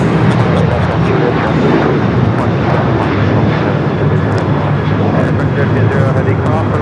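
An airliner, flight 38, passes close and loud at LAX during a busy morning of heavy departures, its broad steady engine roar filling the whole stretch without letup.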